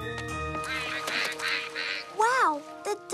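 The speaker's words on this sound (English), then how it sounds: "the ducks are having fun in the rain" A few nasal duck quacks ring out over a musical backdrop, with one louder, drawn-out quack near the end.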